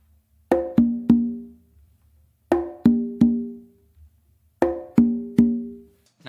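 A hand-played tumba conga drum sounds open slaps mixed with open tones in three groups of three sharp, ringing strikes, each group a quick triplet followed by a pause, close-miked and alone.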